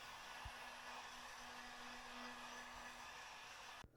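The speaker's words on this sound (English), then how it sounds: "I just used a heat gun to speed up the drying process." Heat gun blowing on freshly painted brake calipers from a BMW E30, a steady close whooshing hiss with a faint hum, running alone before a quick click cuts it off at the end.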